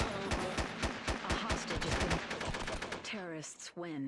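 Rapid automatic gunfire from a PS2 online shooter game rattles off in a dense, loud burst of evenly spaced shots for about three seconds, followed by a few whooshing effect sounds.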